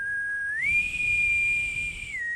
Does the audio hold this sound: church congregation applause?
no